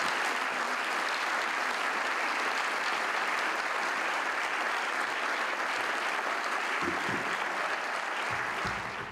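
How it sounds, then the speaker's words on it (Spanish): Big audience applause at a regional sports awards ceremony, a loud, dense, unbroken wash of clapping from a large crowd that holds steady for the whole stretch. "Imos a dar outro aplauso grande"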